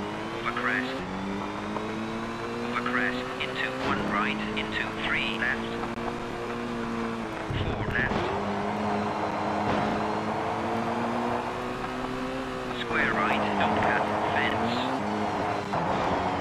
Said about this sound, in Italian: Che bello che possiamo fare le derapate.